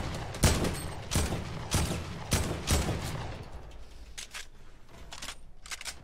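Gunfire in a video game, with an AK rifle: about five sharp, evenly spaced shots ring out close and loud, followed by quieter, faster distant bursts.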